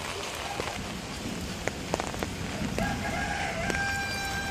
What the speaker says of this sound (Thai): เดี๋ยววันนี้ฝนตก